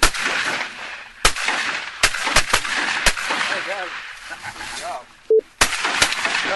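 Shotgun blasts ring out during a duck hunt, several sharp, loud reports spread irregularly over a few seconds, close by, with people talking and calling around them and a brief electronic beep.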